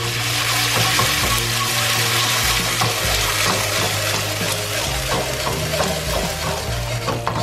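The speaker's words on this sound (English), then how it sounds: "And now we're gonna add in the sauce." Tomato sauce poured into a pan of frying meatballs makes a loud, steady sizzle and bubbling hiss from start to finish, with no voices over it.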